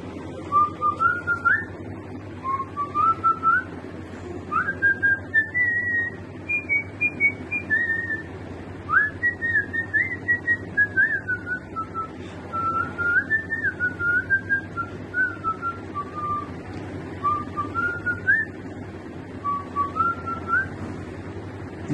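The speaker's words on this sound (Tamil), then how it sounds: "விசில் அடிக்கிறேன்" A person whistles a song tune on their own: a continuous melodic line of short rising and falling phrases, close and clear, with brief breaths between phrases.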